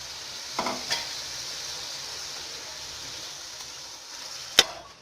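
Steady sizzle of minced meat frying in masala fills the background, broken by a few scraping stirs and one sharp clack of a spoon against the pan.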